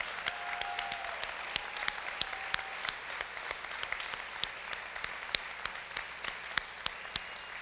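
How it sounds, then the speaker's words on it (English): An audience at the 2018 Choctaw Nation State of the Nation applauds LPN graduates, a steady bed of clapping with a few sharp, distinct claps standing out close by. "Let's give them a big round of applause."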